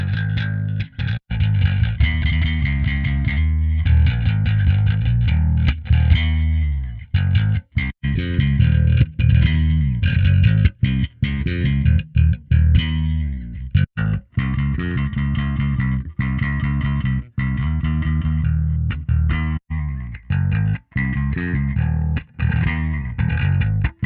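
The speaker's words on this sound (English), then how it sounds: "so we can hear it with the distortion engaged" A bass guitar through a Darkglass Alpha Omega Photon with distortion engaged plays a continuous riff with gritty, fuzzy tone, notes cutting in and out with brief pauses throughout.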